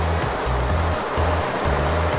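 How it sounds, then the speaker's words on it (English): A particle counter's flush valve pushes hydraulic fluid through the test setup, making a continuous rushing, hissing flow with a low pulsing hum beneath it, steady and close throughout, with no voices. "the particle counter will be flushing the fluid until the moisture sensor has been calibrated"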